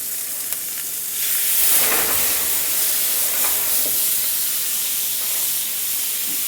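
Leftover marinade poured over chicken cooking in a hot pan sets off loud, close sizzling and hissing steam that swells after a second and keeps spitting steadily with no talk.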